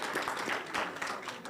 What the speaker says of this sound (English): Vibrants applaudissements, s'il vous plaît.